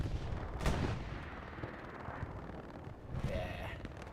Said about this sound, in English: looks like artillery shells, or is that going to be tank shells in there?